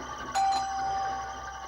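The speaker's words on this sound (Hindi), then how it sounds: "अब तुम्हारे घर की डोरबेल बजेगी" A house doorbell rings at night in a drama scene, a clear two-tone ding-dong chime sustained briefly, loud and close.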